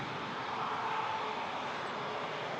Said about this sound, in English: Next departure is an A321 headed to Charlottetown.